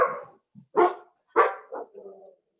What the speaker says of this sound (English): dogs bark at everything